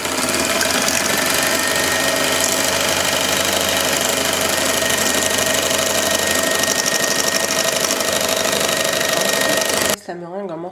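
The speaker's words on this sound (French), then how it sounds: "C'est parti pour un tour de batteur." Electric hand mixer whirring loudly and steadily while beating batter for a chocolate and meringue terrine, a close, constant motor drone that cuts off abruptly near the end.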